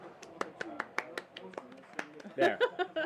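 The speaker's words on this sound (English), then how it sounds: "He deserves a round of applause, really." A small group claps in scattered, irregular strikes, close and fairly quiet, with someone speaking and chuckling over the last second.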